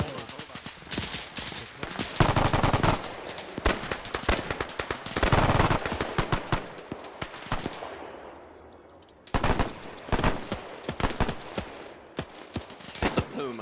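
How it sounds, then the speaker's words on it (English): Rapid machine gun bursts rattle again and again in an Arma 3 battle, loud and dense with short pauses between strings of fire, while players talk over the shooting. "He's using the machine gun instead"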